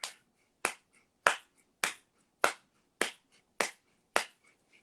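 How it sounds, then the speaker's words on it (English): A single person claps sharply during a guided breathing circle, eight crisp isolated claps spaced evenly about half a second apart, close and alone in a quiet room. "I'm going to clap"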